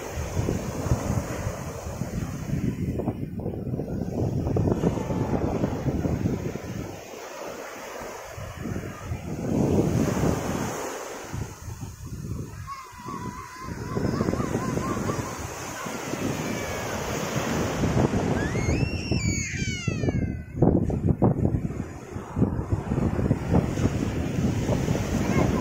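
Surf rolling onto the beach at Pantai Penarik in Setiu, with steady waves and strong wind buffeting the microphone, a continuous loud wash throughout.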